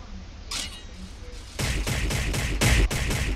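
Crystal spears erupt in Shinobi Origin as a rapid series of about five loud, crackling impacts, each punchy and close, with a few fainter shimmering hits before them.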